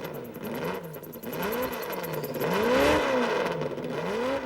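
A pre-war Alfa Romeo 158 Grand Prix racing car engine revs loud and close, its pitch rising and falling in repeated surges over a constant mechanical roar.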